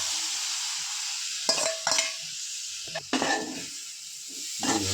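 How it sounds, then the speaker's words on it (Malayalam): Cooked prawns for a prawn roast are tossed into a hot pan and stirred. A steady loud sizzle runs throughout, broken by a few scraping, clattering stirs. "അതിലേക്ക് നമ്മൾ വേവിച്ച് വെച്ചിരിക്കുന്ന ചെമ്മീൻ ചേർക്കുക"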